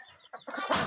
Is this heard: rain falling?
no